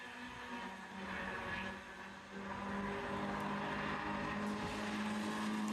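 Race cars at Summit Point circuit roar past at a distance, engine notes rising and swelling as they exit a turn onto the front straight, blending into a continuous mid-level drone.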